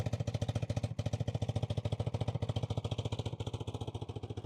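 A 1987 BMW R100RS motorcycle's fully rebuilt boxer engine runs steadily at idle, a close, even, rapid pulsing thump that holds constant throughout with no talk over it.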